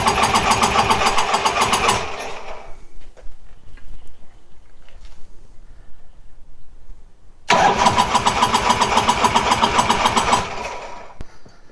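A Harley-Davidson Sportster motorcycle engine cranks and fires, running loudly for about two seconds before stalling into quiet, then starts again and runs roughly for a few seconds before cutting out.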